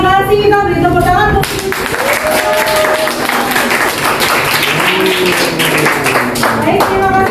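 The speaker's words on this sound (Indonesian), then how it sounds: "Kita beri tepuk tangan" Classroom group clapping for a university teacher-training session starts sharply after a moment of speech and runs on as brisk, fairly close hand claps, with a voice talking over parts of it.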